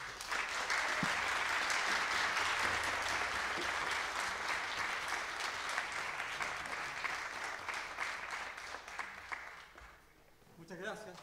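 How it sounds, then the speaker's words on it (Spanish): Sustained audience applause after an orchestra's performance at a municipal concert, a dense steady wash of clapping from a large crowd that slowly thins and fades near the end. "para quien pido un aplauso, Jorge Jiménez."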